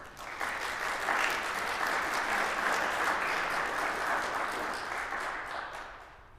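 Members at a Lutheran church voters' meeting give a round of applause to welcome new members: clapping swells in quickly, stays full and steady, then thins and fades away at the end.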